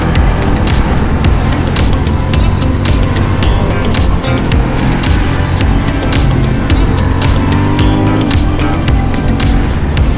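A motorcycle engine drones steadily and loud as it rides a winding Alpine mountain road, with heavy wind rush throughout and no clear talk.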